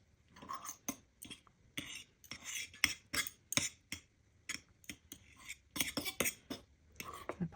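A metal fork clinks and scrapes against a plate or pan while handling hot cooked eggplant, producing irregular close-up taps and rattles throughout.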